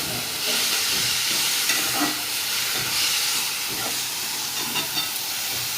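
Cabbage sabzi cooks on a low gas flame with a steady broad hiss and soft simmering, continuous and close, with a few faint clicks and no voices.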